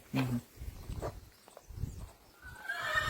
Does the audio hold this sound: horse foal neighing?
yes